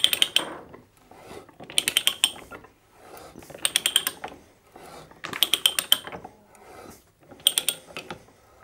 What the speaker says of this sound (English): Every two or three threads, we need to lift up, reverse the ratchet.